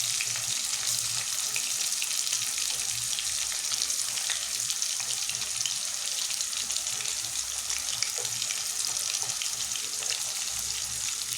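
Chicken pieces fry in coconut oil with a steady, dense sizzle and crackle that hold at an even loudness with no pauses, along with faint stirring and watery bubbling in the pan.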